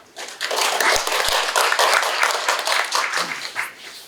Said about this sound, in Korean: 최강남 본부장님을 박수로 모시겠습니다.